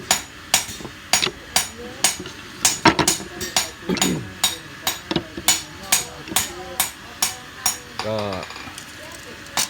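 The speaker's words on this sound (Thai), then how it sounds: "ตอกลักษณะนี้จะแน่นนะครับ" A wooden knife handle of Sathorn wood is hammered on to seat it tight, giving a steady series of about twenty sharp, close knocks in even rhythm, with someone speaking faintly in between.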